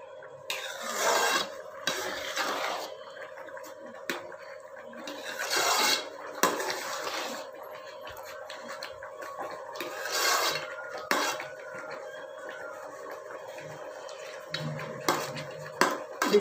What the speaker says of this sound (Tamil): நல்லா கிண்டிக்கோங்க. நல்லா கலக்கிக்கோங்க.